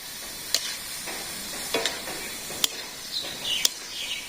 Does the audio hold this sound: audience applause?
no